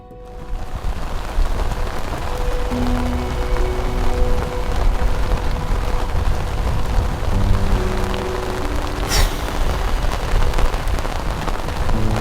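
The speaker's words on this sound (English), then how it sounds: "Rain, it's really coming down now." Heavy rain pours down in a storm on the road to Tuktoyaktuk in Arctic northern Canada, a dense steady roar of drops hammering surfaces throughout, loud and close, with a brief sharper burst near the end.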